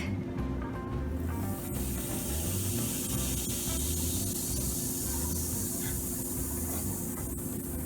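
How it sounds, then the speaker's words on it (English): Baking powder fizzing as it releases carbon dioxide gas, a steady close hiss of bubbling and crackling that runs throughout with no talk. "That was definitely a faster fizz."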